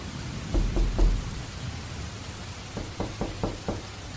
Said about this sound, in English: A soft knock.